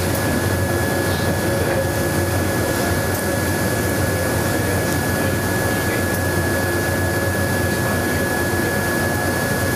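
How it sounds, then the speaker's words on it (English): A BP80 plus dry etching tool runs a plasma etch, giving a loud, unbroken machine drone and pump hum with steady high tones and no voices. "So now we will start the dry etch run."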